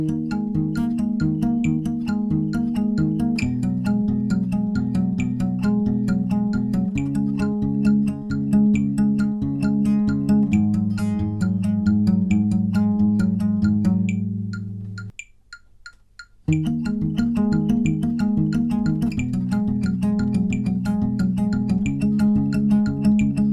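Fingerpicked acoustic guitar playing a main riff twice, first at a slower pace and then at full speed after a short silent break, steady plucked notes close and alone.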